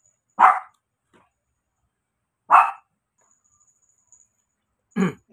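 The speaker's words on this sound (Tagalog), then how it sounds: "Tumataw lang naman po si Summer, yung aso ko" A dog barks three times at spaced intervals, each a single sharp, fairly close bark, with near silence between them.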